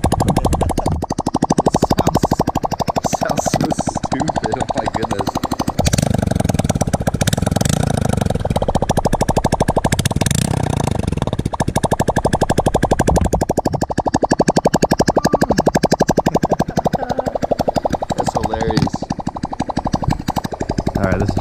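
Honda Grom motorcycle with its exhaust cut off, running loud and close for the whole stretch, with a rough idle broken by repeated revving swells and popping, burbling crackles.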